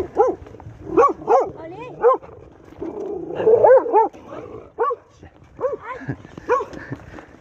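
Several dogs barking and yipping near a house along a dirt trail, a run of sharp close barks in bursts with whimpering yips between, people talking in the background.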